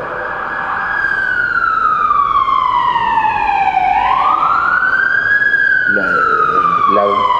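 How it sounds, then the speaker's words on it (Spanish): A loud wailing ambulance siren sweeps slowly down and back up in pitch, close and dominant, with a few brief honks near the end. "La ambulancia"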